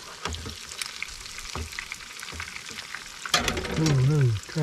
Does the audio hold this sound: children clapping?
no